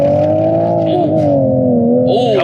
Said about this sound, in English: Build up some revs.